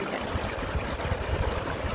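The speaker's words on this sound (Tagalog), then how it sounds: "Doon malakas ang flowing ng water." A strong river, the Yellow Dragon River on Lantau Island, Hong Kong, rushes in a steady, dense wash of flowing water, close and continuous, with a brief word spoken over it.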